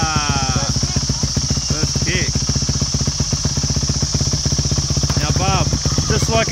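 A Yamaha YZ250F dirt bike engine is started and runs steadily at a close, rapid, clattering idle throughout, with a voice briefly heard over it.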